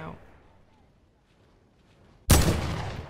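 A sudden loud burst of gunfire from the video game Fortnite breaks a near-silent stretch, with a sharp attack and a decaying roar that carries on to the end.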